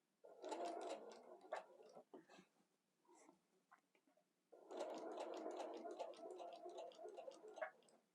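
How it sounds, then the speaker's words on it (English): A domestic sewing machine stitches a Dresden Plate quilt, running fast in two bursts of rapid, even mechanical ticking separated by a short pause, close and fairly quiet. "That is quite fast."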